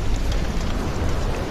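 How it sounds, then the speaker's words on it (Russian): Steady broadband rain in the video game Don't Starve, a continuous even hiss with low rumbling texture filling the whole stretch, with no voices. "Вот дождь, дождя бы я вообще бы не хотел."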